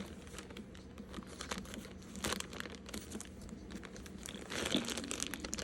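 Crinkly plastic packaging rustles and crackles in steady bursts as a Mini Mia Disney Princess package is opened, close and fairly quiet with no talking.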